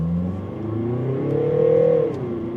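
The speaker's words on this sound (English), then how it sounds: "Sport mode, acceleration." A Mercedes V-Class van with a 2-liter four-cylinder diesel accelerates in sport mode, its engine note rising smoothly in pitch from inside the cabin with a steady, loud drone and no talk.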